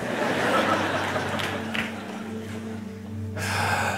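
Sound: deliberate deep breath

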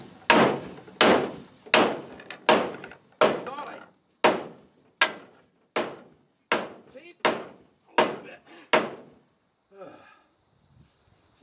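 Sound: hammering on swollen parts of a home-made trailer

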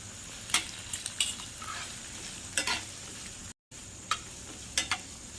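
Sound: stirring potato pasta in a frying pan

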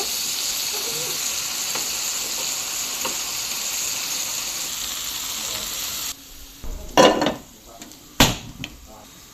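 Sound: frying fish and potatoes in oil

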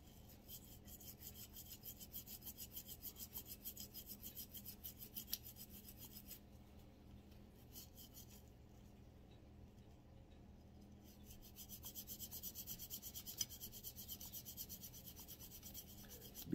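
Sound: scrubbing Walther CCP pistol slide clean

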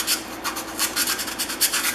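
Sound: sanding stick rubbing wood

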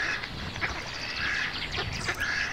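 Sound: duck quacking loudly

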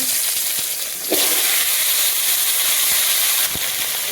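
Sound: vegetables added to hot oil, sizzling

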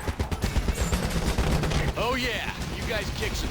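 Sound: gunfire in video game Ghost Recon Advanced Warfighter 2

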